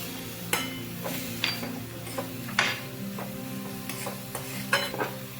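Spoon scraping and stirring gajar ka halwa, carrots cooked down with milk, dry fruits and cardamom, in a pan, with repeated close clicks and scrapes at an irregular pace over a soft steady sizzle.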